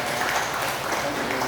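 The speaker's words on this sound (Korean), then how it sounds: "우리 하나님께 감사와 찬송과 영광의 박수를 올려드리겠습니다" Church congregation applauding during a Sunday worship service in Daejeon, a steady dense clapping wash with no break across the short moment.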